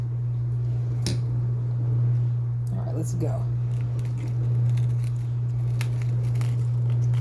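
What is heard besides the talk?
scissors cutting citrus plant stems during harvest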